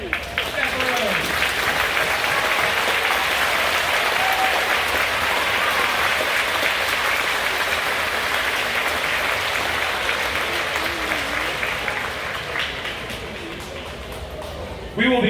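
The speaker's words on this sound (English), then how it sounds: "would you please stand so that we can applaud you for your hard work?" Audience at a Buckhorn Middle School spring band concert applauds the trip chaperones: sustained, dense clapping from a large crowd that tapers off near the end, with a few voices mixed in.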